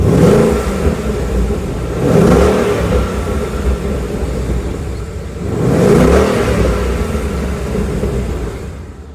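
A car engine with a full stock, unmodified exhaust is revved hard twice, each loud rising roar swelling and then falling back to a rumbling idle, with no talking.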